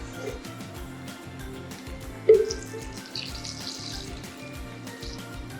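Water being poured into a soup pot holding cauliflower and sweet potato, a soft steady splashing trickle with a short louder splash partway through and no talking.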